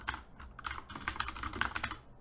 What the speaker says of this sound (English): You just type into the box and it changes your name.